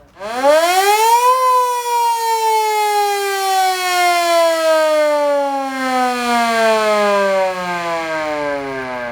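A loud mechanical fire siren at a fire brigade museum winds up quickly, then holds a long wailing tone that slowly sinks in pitch, steady and close throughout.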